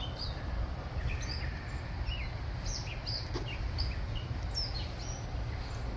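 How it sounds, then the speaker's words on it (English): Outside a greenhouse, birds chirp and tweet in short scattered bursts, several quick high calls spread across the stretch over a steady low background hum, moderately distant. "Birds are chirping, everyone's happy"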